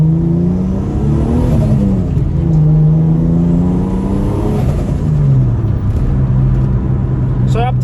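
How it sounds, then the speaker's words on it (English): A 1995 EF Ford Falcon with a turbocharged 4.0L Intech six revs up and down twice, rising and falling tones with a turbo flutter; a person talks over it. "it's got a nice turbo flutter to it"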